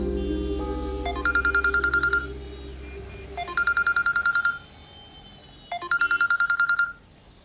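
A mobile phone rings with an incoming call, sounding three loud bursts of rapid electronic tones separated by short pauses, after a low hum fades out.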